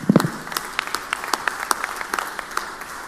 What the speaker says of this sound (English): I would ask that we give them one more round of applause.